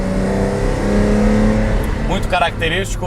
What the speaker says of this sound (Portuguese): o motor não perdeu esse ronco